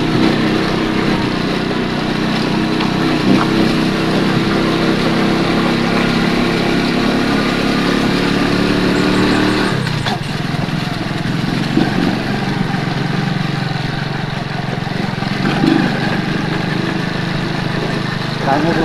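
A motorcycle engine runs steadily and close by throughout, with a constant low drone that shifts slightly partway through, under faint background voices and outdoor noise.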